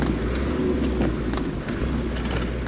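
A Land Rover Defender cruising on an overland trip, its cabin filled with a steady, loud low drone and rumble of drivetrain vibration at cruising revs, continuous with no talking.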